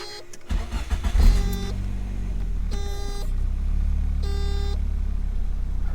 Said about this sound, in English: Let's start up the car right now.